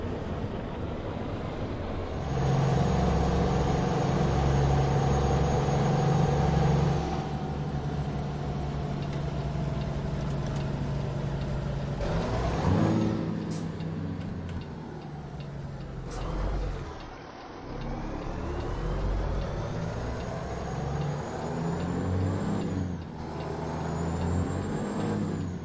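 A Kenworth T680 with a Cummins KT engine hauling timber in American Truck Simulator drones steadily as it pulls away, the engine rising through several gear changes with brief dips and an air hiss; loud and continuous, no talk.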